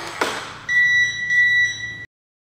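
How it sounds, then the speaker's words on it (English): After a soft click, a Kwikset Powerbolt 2 touchpad keyless deadbolt gives two long, loud, high-pitched beeps in quick succession, close by. "should sound off with 2 beeps"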